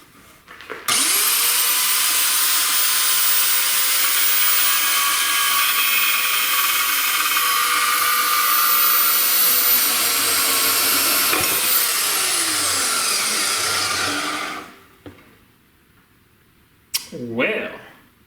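A metal band chop saw cuts through metal stock with a loud, steady grinding whine that runs for about fourteen seconds, then stops abruptly; a voice follows briefly.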